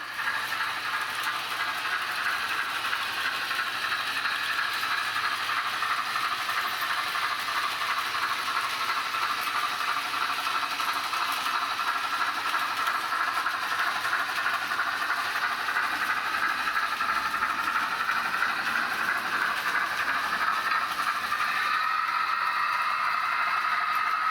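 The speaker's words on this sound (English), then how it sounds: "this train will now start coming down the mountain track." A small model train runs steadily along its track, a continuous whirring, hissing rattle that holds level throughout with no voices.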